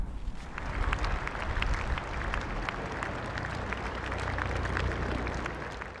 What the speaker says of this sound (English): One final ovation for a man who always brought the Old Trafford crowd to its feet.